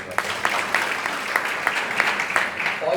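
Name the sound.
applause in a church congregation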